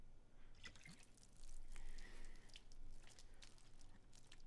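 Pasta dumped from a pot onto the ground in Project Zomboid, a faint, wet dribbling and spattering of liquid that swells briefly in the middle amid low ambient game noise.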